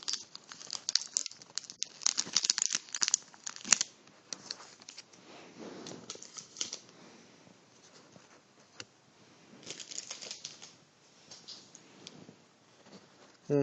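Core set Magic: The Gathering booster pack being torn open and fifteen cards handled, steady close crinkling and crackling of foil wrapper with papery rustles throughout, fairly quiet and without talk.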